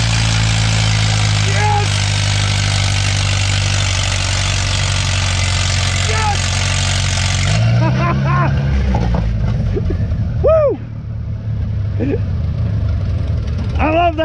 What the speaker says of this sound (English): I love that tractor, man.